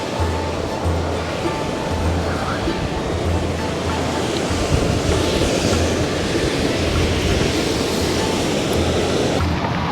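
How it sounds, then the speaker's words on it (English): Ocean surf and waterfalls below a cliff on the Isle of Skye in Scotland make a constant loud roar, with wind buffeting and a low rumble underneath throughout. "see the ocean and these beautiful waterfalls."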